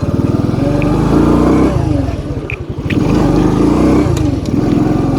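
A motorcycle engine starts and runs steadily, a loud close-up idle with a rough, throbbing pulse and a brief dip before it settles back into a continuous running note.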